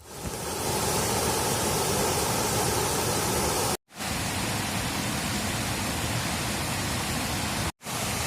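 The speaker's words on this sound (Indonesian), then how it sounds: "Sekarang kita udah sampai di air terjun Sangkapane." Sangkapane waterfall in Aceh, a loud, constant roar of falling water close by that fills the whole scene, with two abrupt momentary cuts.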